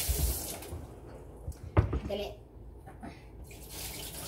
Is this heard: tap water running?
yes